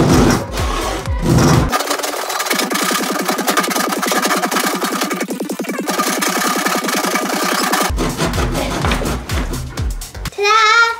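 A hand saw rasps back and forth through a polished Japanese foil ball in steady, rapid strokes, loud and close, with brief scraping and handling noises at the start and end of the cutting.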